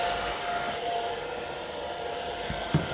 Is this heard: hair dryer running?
yes